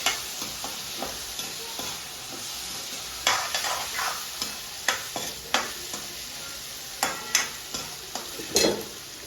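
A spoon stirs food in a frying pan just after black salt goes in, giving a series of scraping strokes over a soft, steady sizzle. The strokes are irregular and close.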